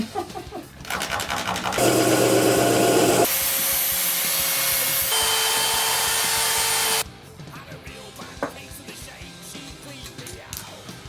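A special saw cutting scrap pipe bends for a scooter carburettor: a loud continuous grinding whine lasting about five seconds, shifting pitch partway through, with clatter and handling noises before and after.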